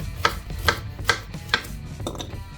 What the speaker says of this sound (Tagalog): maghihiwa lang tayo ng carrots